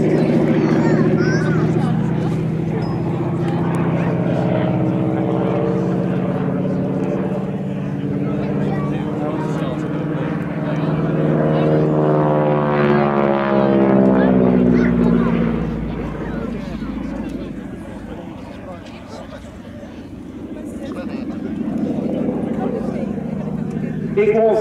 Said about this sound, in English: It was, in all respects, a very significant aircraft, the T-6 Texan or Harvard.